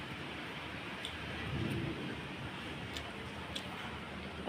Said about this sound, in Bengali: বাইরে প্রচণ্ড ঝড় বৃষ্টি